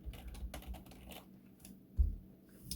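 Keys on a computer keyboard are typed in a quiet, close run of light clicks, irregular and spaced, with one firmer tap near the end and no talking.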